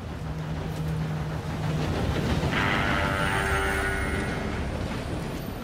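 A steam train approaching in Red Dead Redemption 2, a heavy rumbling chug building up with a drawn-out whistle tone in the middle, loud and continuous, no talking.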